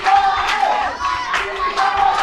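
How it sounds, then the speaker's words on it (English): A wrestling crowd cheers and rallies behind a wrestler, a loud wash of shouting voices rising and falling in waves over a couple of seconds. "Crowd rallying behind Evonias here"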